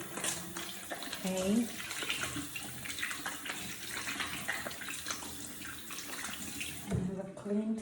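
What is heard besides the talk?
tap water running while washing hands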